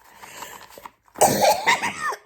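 Someone coughs a few times in quick succession, harsh and close, after a quieter stretch of breathing.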